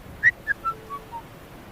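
A man whistles a short descending tune of five notes, each fainter than the last, heard alone against a quiet dark background, as an eerie horror-story effect.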